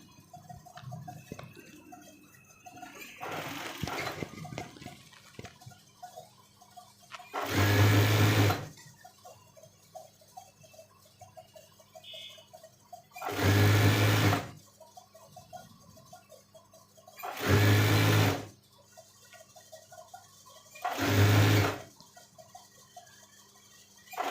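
Sewing machine stitching a coat sleeve from the cuff side, running in four separate bursts of a few seconds each with quiet pauses between them and no speech.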